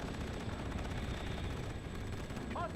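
Gunfire and battle noise in the military strategy game Bannon in Conflict, a dense low rumbling barrage of shots and explosions held at a steady, fairly quiet level with no speech.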